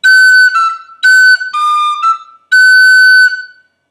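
A tin whistle sounds separately tongued notes with a slight swing, a few short bright bursts in an uneven lilting rhythm, loud and near, with no voices, ending in silence.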